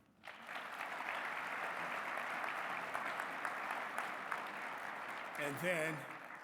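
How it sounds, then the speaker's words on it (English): Audience at an athletics awards presentation claps in sustained, even applause that starts abruptly and holds steady, ending with a brief voice or whistle-like sound near the close. "A round of applause for them."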